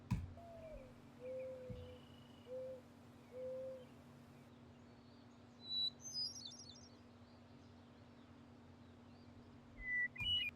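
A bird call plays faintly over a steady electrical hum: soft low cooing notes early on, then a few higher, sharper chirps and whistles later, with no talking.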